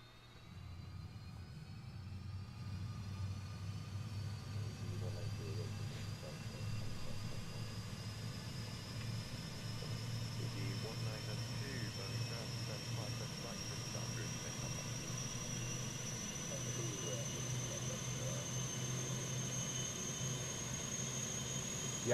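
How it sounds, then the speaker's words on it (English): Airbus A320 auxiliary power unit spooling up in Microsoft Flight Simulator, a steady low engine drone with a thin whine slowly rising in pitch throughout. "We can go ahead and spool up the APU."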